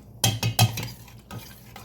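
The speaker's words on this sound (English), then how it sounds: "Stir it around." A spoon stirs minestrone soup made with canned pantry vegetables in a pot, a few quick scraping and clinking strokes near the start, then quieter sloshing movement fading out.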